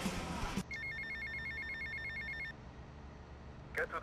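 A payphone rings in GTA Vice City with a steady electronic trill lasting about two seconds, followed by quiet game ambience and a brief blip at the end.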